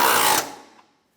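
A 12mm bolt being tightened on the radiator of a 2011-2016 Hyundai Elantra gives a short, close burst of ratcheting tool noise that cuts off after less than half a second and then fades.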